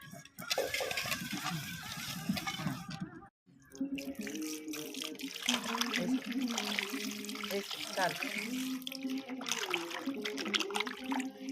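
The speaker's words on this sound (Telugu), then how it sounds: "శుభ్రంగా ఇలా నీళ్ళు వేసి ఒక 3-4 సార్లు కడిగితే తెల్లగా వస్తాయి అన్నమాట" Water poured and swished over fish being washed with salt in a vessel, close splashing and sloshing, with someone talking over the water for most of the clip.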